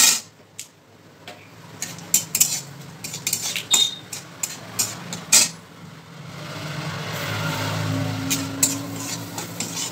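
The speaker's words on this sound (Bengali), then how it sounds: "সরষে পরিমাণ মতো জিরে আর ক্যারি পাতা দিয়ে দিলাম। ভালো করে নাড়াচাড়া করে" Metal spoon scraping and clinking against a pan while mustard seeds, cumin and curry leaves are stirred for mixed dal, a run of sharp close taps, then a steadier sizzle building in the second half.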